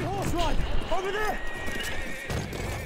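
Two or three horse whinnies in quick succession over busy Battlefield 1 multiplayer background noise, with a brief voice mixed in.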